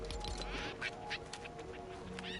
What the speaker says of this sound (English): Chickens are getting excited over there about something.